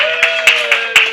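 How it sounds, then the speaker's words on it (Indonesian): A seminar audience on public speaking gives a few sharp, separate claps at a slow, uneven pace over a steady electrical hum, close and crisp. "Tepuk tangan buat kita semua."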